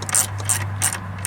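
A ratchet wrench clicks in quick uneven bursts while loosening a 12 mm bolt on the alternator of a 2002 Mitsubishi Lancer, close by over a steady low hum.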